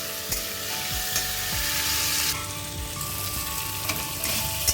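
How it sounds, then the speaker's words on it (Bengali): Potatoes fry in a pan with a continuous close sizzle, punctuated by occasional spatula knocks and scrapes as they are turned. "আলুটা ভেজে নেব"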